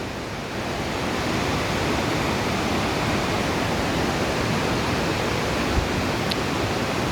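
Water gushes out in a steady, loud, broadband rush that holds constant from start to finish, with one faint click near the end and no voices.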